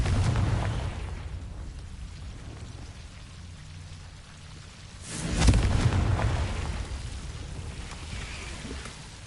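A Confringo blasting spell explodes in Hogwarts Legacy, one burst rising out of a soft, rain-like crackling bed midway, swelling and then fading back over a few seconds, with no talk.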